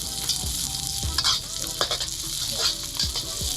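Ginger, onion and garlic sizzling in oil in a pan, loud steady frying with repeated scraping strokes of a spatula as the aromatics are stirred, up close.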